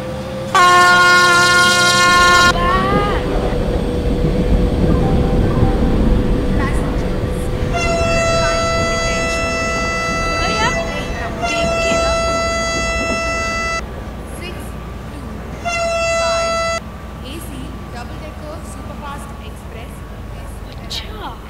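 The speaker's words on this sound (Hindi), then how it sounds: "जब वंदे भारत ट्रेन लेट चल रही है।" Loud, close blasts of a Vande Bharat Express train horn, one long tone followed by several repeated honks, over the continuous rumble of the train passing on the rails, with people talking nearby.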